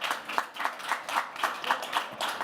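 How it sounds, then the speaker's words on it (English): A few people clap near the microphone at the close of an online business panel on decarbonization, their claps landing in a brisk, fairly even rhythm for a couple of seconds. "This is your round of applause."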